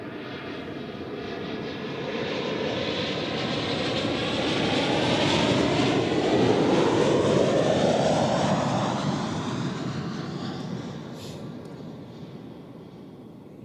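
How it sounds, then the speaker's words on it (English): Embraer 190 jet airliner landing at Zurich Airport, its engine roar swelling from a distance to a loud peak overhead, then fading away as it touches down; no talking. "But first we enjoy this Embraer"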